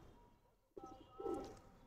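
Pigeon cooing in a fancier's loft, one soft low coo rising after a brief quiet moment, faint and close.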